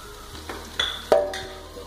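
Whole spices (pepper, anise, cinnamon, cardamom, clove) sizzle softly in oil in a pan while a few sharp clinks and taps of a utensil against metal punctuate it.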